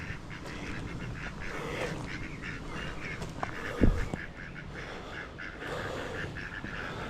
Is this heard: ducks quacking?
yes